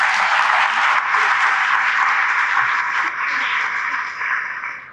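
Students applauding during a school trip to Science City, a steady, dense clapping that carries on throughout without pause.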